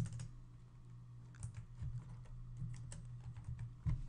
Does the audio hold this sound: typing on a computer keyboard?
yes